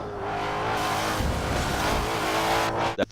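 Race car engine held at full throttle in Forza 7 on Road Atlanta, a loud sustained high-pitched roar with slight tire noise, cut off abruptly near the end.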